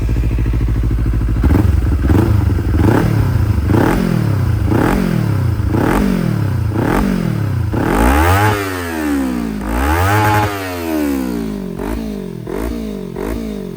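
A 2018 Kawasaki Z300 SE motorcycle engine with 32,000 km idles, then revs repeatedly in rising and falling blips, with a couple of long, loud throttle sweeps in the middle.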